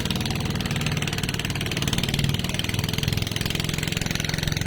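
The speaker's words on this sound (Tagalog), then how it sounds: "Todo makina kaya mausok." A fishing boat's engine at Navotas fishport runs flat out, a loud, close, steady rhythmic chugging that goes on the whole time with no talk.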